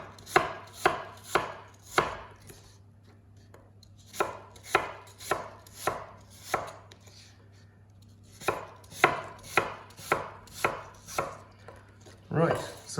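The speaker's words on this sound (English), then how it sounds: "I just like to slice it, you know, about a centimetre thick or so" A knife cuts apples into slices about a centimetre thick on a board, with crisp, close chopping strokes in two runs of regular rhythm separated by a short pause.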